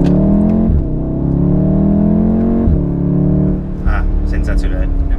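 VW Golf 7R with DSG gearbox and 4Motion pulling hard out of a corner in first gear, a loud rising engine roar that climbs, shifts and climbs again from inside the car, with someone talking over it.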